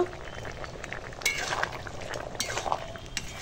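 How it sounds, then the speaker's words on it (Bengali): A pot of shukto, a Bengali vegetable curry finished with ghee, bubbles softly while a spoon stirs it, with several sharp clinks against the metal pot. "তো ঘি দিয়ে ভালো করে ঘেঁটে ঘুঁটে নামিয়ে দেবো"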